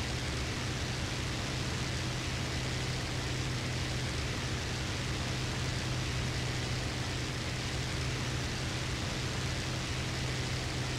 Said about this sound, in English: And some rain.